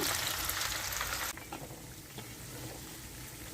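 Chicken pakoda fries in hot oil, a dense close sizzle that drops suddenly to a quieter, steady bubbling hiss after the first second or so.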